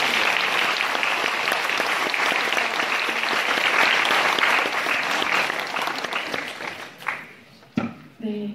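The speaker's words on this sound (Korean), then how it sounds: "여러분 박수 부탁드립니다." An audience at a lecture session at the Jangseong Academy in Jeollanam-do, South Korea, bursts into sustained applause, a loud, dense wash of clapping from many hands that tapers off near the end as a voice starts to speak.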